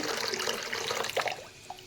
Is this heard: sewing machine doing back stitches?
no